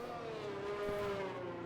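Race cars in the F1 2019 video game at the Australian Grand Prix, a continuous high engine whine with shifting pitch as other cars are approached, steady and fairly loud.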